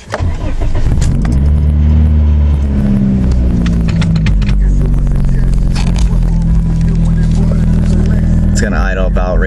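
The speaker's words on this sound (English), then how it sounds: "It's gonna idle about right there until it gets warm because it's cold out right now." A cold 1996 Eclipse engine idles with a loud, steady low rumble right next to the listener, running continuously while a person talks over it.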